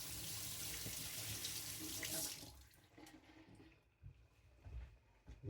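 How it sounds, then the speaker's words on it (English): Tap water runs steadily from a faucet while soap is rinsed off a Victorinox Chinese cleaver, loud and continuous for about two seconds, then cut back to quieter intermittent splashes and drips. "Just rinsing off the soaps."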